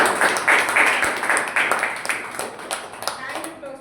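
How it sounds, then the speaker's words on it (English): Audience at a Toastmasters meeting clapping in a short burst of close, moderately loud applause that thins out toward the end, with a voice speaking over it. "Let's all give her a big round of applause."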